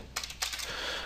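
A computer keyboard being typed on to enter a search keyword, heard as a few quick, faint close key clicks in an otherwise quiet room.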